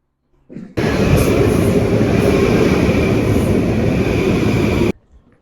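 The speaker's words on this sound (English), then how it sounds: "we made it to the train" A subway train rumbles loudly and steadily after a brief start, a dense roar with a faint high whine, then cuts off abruptly near the end.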